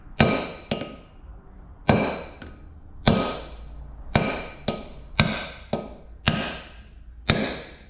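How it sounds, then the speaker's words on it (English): Brake parts on a 1981 Dodge D150 pickup being hammered into place: eleven sharp metallic clangs in uneven pairs and singles, each ringing briefly before fading, loud and close with no talking. "then you'll hammer these in until you feel it go solid."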